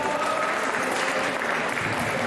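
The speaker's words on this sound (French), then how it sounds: "que l'on peut applaudir" Audience at a medieval armoured combat tournament applauding a winner, dense steady clapping that fills the whole short clip, moderately loud and without breaks.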